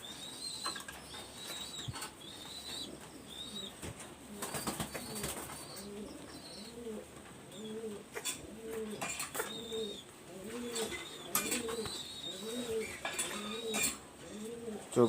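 Pigeons coo in a rhythmic, repeated pattern, with soft rolling calls recurring throughout at moderate distance among a pair of young pigeons, with occasional clicks and faint chirps.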